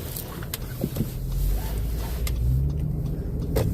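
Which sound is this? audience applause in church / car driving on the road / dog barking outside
car driving on the road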